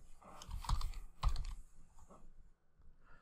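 Keystrokes on a computer keyboard while a last name is typed into a research database search field, a short burst of clustered key taps with two sharper strikes, alone and fairly quiet, ending in near silence.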